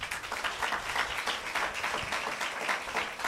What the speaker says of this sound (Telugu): ఒక్కసారి నమ్మి సంతోషంతో స్తుతిస్తూ చప్పట్లు కొడదాం.